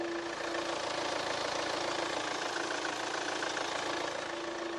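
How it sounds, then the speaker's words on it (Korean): A Hyundai Santa Fe The Prime diesel SUV idles steadily up close with the hood open, a dense, even, regular clatter with a constant hum and no pauses or voices. "일단 디젤 차량이기 때문에 디젤음은 들려주고 있지만 굉장히 규칙적인 엔진 사운드까지 들려주고 있는 모습이고요"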